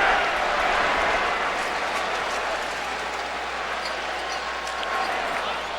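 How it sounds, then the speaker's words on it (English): Baseball crowd at Yankee Stadium during a 2007 playoff game between the Cleveland Indians and New York Yankees, a dense, steady roar of cheering at a distance, sustained throughout without pause. "Or listen to the Yankee crowd."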